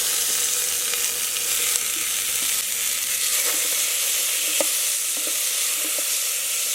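Chopped tomatoes fry in an Instant Pot for an Andhra-style dal rasam, giving a constant, even hiss with a few faint clicks and taps from stirring, and no voices.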